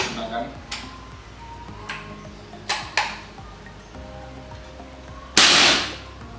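A Gejluk side-pump bullpup air rifle fires a few quiet, sharp snaps under someone talking. Near the end comes one louder burst of hissing air.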